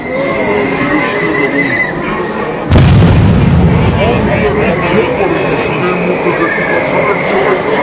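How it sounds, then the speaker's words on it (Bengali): Sound grenades exploding at a street protest where demonstrators throw stones and police try to push them back: a sudden loud blast lands partway through, followed by sustained rumbling crowd noise and voices. "কয়েক দফা এখানে সাউন্ড গ্রেনেড বিক্ষিপ্ত হয়েছে"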